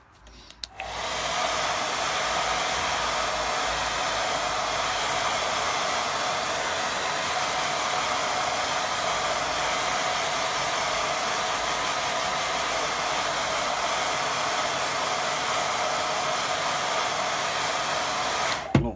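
A hair dryer blows on a watercolour painting of a scarecrow in a field: after a click it runs at a steady, loud, unbroken rush for the full length, then cuts off at the end. Nobody speaks.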